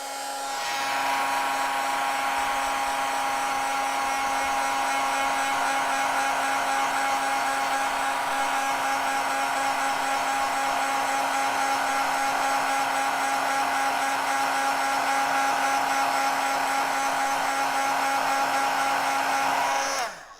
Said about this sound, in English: now I can do the heat embossing.